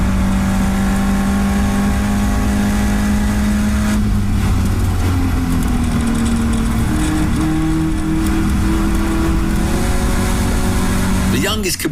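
Caterham race cars at Knockhill during a Caterham Festival race weekend, their engines droning loudly and shifting pitch as they battle side by side, continuous throughout with a commentator's voice running over the engine noise.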